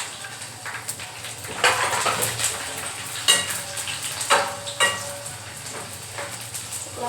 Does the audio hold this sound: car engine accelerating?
no